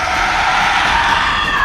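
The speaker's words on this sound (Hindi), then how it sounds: "और उसने राम की आवाज में चिल्लाया, हे सीते, हे लक्ष्मण" A sustained, loud, shrill scream crying out for help, a single drawn-out yell that holds steady for its whole length with no other voices.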